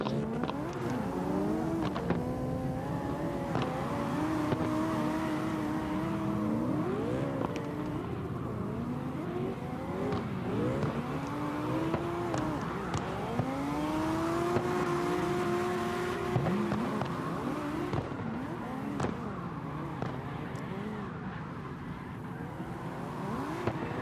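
A drift car at Irwindale revs hard as the driver stays on the throttle, its engine note rising and falling through repeated sweeping pulls for the whole stretch, loud and steady with tire noise mixed in and no voices.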